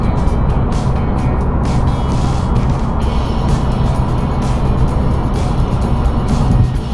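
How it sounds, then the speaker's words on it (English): Seat Leon FR 2.0 TDI diesel hatchback, remapped to 201 bhp, cruising at speed in a high gear, with a steady loud broadband road and engine drone that holds constant throughout, with no voices. "The car drives smooth."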